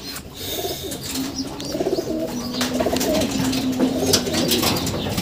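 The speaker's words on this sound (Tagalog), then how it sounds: "Ito mga kalapatids" Island-born Heremans pigeons coo softly and repeatedly, low throaty murmurs overlapping close by, with faint rustling and other small sounds in the background.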